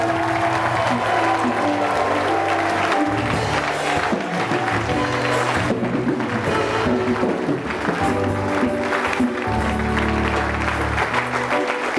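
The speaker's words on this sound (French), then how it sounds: "On acclame le Seigneur Jésus-Christ." A church congregation applauding during a worship service, with steady, dense clapping that fills the whole stretch, loud and close, with some voices mixed in.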